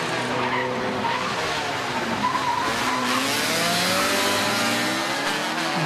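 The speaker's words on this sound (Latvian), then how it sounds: "Opel Ascona atkal redzam trasē, Elmārs Tikums, Arnis Modris" A 1987 Opel Ascona rally car runs a historic rally stage, its engine note rising and falling loudly and close by with tyre noise throughout, sustained without a break.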